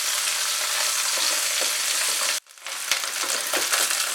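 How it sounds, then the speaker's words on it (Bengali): Cauliflower florets with a little turmeric frying in oil in a kadai, giving a dense, close, steady sizzle that cuts out briefly partway through, then resumes with some stirring. "একটু সময় লাগবে ফুলকপিগুলো ফ্রাই হতে।"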